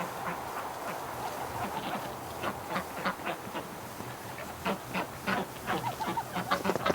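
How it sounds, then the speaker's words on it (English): Ducks and geese let out of winter lockdown onto fresh straw quack in a busy, overlapping chorus, calls bunching into quick runs that grow louder and more frequent toward the end. "some of the ducks have just started coming out now"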